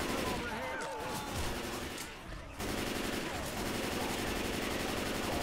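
Rapid automatic gunfire from survivors shooting at the Tank in Left 4 Dead 2, on the Nach Der Untoten survival map mod, rattles steadily and loud throughout, with a short lull in the middle.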